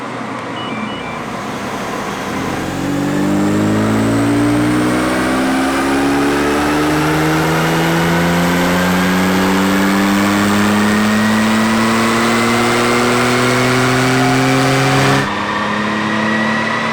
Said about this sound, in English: We're gonna run this on our dyno here